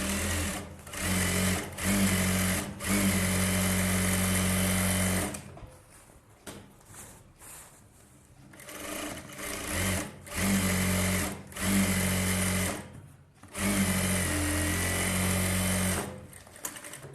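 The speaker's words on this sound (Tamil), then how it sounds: "அதே மாதிரி இந்த லைனிங்கில் இந்த எஜ்ஜு தையல் போட்டுருவோம்." A domestic sewing machine runs in several bursts, stitching along the edge of a blouse lining, loud steady whirring broken by short pauses and quieter handling between runs.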